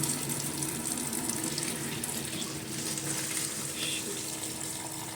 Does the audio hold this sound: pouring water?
yes